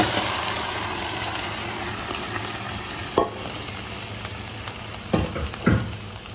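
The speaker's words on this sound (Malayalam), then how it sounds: "ഇതിന് നമുക്ക് നമ്മുടെ മസാലയിലേക്ക് ഒഴിക്കാം" Pre-cooked squid hitting a pan of hot sizzling masala for koonthal roast, a continuous loud sizzle with a few sharp splashes and stirring clatters near the end.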